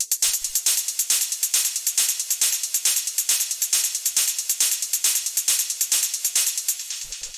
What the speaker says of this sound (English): After that, we have the hi-hats,